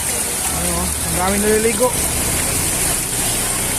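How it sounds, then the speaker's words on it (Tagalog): Heavy rain pours down steadily onto a flooded neighborhood street in a barangay, a constant dense hiss filling the scene while a person speaks over it. "At palakas pa ng palakas yung ulan"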